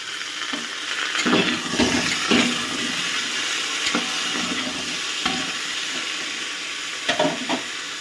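Washed meat for a chicken stew drops into a hot pan, a loud burst of sizzling and spattering that settles into a steady hiss with occasional stirring scrapes, close by.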